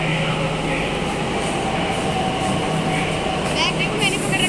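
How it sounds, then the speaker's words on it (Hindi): A metro train pulls into a station with a steady loud rumble and a faint high brake squeal near the end, while a crowd murmurs around it. "मेट्रो आ गई है, अब चलते सीधा मेट्रो के अंदर।"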